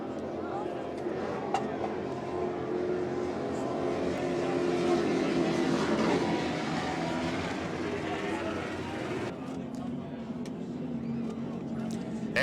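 An offshore racing powerboat with Chief engines, from the Sheds Plus team at a Cocoa Beach offshore grand prix, roars as a broad steady drone that swells in the middle and eases near the end.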